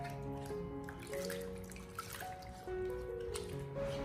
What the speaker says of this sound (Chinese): 我们在清洗黄瓜的时候，尽量的将它多掏洗几遍，把黄瓜上面的一些脏东西全部的清洗干净